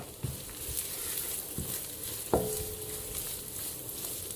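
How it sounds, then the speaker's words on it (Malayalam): Shredded beef dropped into a pan of masala and stirred, with a steady sizzle of frying throughout and a few soft scraping knocks of the spoon, including one sharper clink partway through. "കുറേശ്ശെയായിട്ട് നമ്മൾ ഈ ഇറച്ചി ഇട്ട് കൊടുക്കുന്നു. എന്നിട്ട് നന്നായിട്ട് ഇളക്കിയെടുക്കുന്നു."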